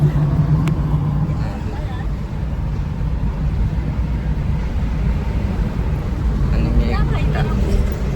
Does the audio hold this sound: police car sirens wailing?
no